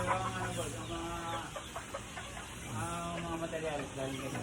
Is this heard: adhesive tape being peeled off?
no